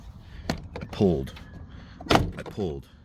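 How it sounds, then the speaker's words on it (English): Plastic clips snap and crack as a door panel is pulled off a Toyota 4Runner or Tacoma, sharp close pops and rattles mixed with someone talking. "Get the door panel off."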